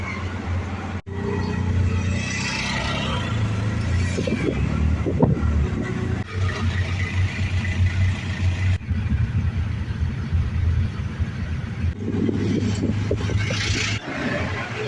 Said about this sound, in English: The tuk-tuk is just like any other auto rickshaw ride that you can take if ever you're in India.